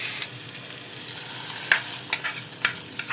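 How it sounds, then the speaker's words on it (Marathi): A hot spiced tempering with ginger paste is stirred into idli batter made from cucumber and semolina, giving a steady soft wet hiss with a few sharp clinks and scrapes of the spoon against the bowl. "आता ही फोडणी आपण आहे ना इडलीच्या पिठात घालून घेऊयात"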